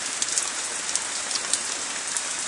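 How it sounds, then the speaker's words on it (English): Steady rain falling outdoors in California, a dense, even hiss of drops close by with small patters, continuous and alone. "A real rain."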